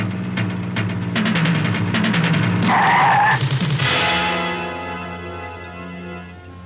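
A car skids to a stop on a road in a dramatic film scene, a long loud tire squeal under a rising engine roar that peaks and then fades into a lingering rumble.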